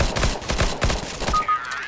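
Rapid bursts of automatic rifle fire in the video game CS:GO, shot into a tunnel, sharp repeated cracks in quick succession that cut off near the end.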